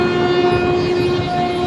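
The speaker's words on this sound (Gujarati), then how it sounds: "જો ટ્રેન જાય છે" A train moving through a railway station on the Surendranagar to Wankaner line, a steady close rumble with sustained horn-like tones running through the whole stretch, loud and continuous without talk.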